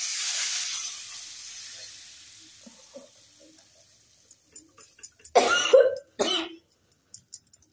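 Kashmiri chilli powder tempering hitting hot oil for kadhi, with faint hissing at first, then two loud, close bursts of crackling sizzle near the end, plus a few small pops and spatters.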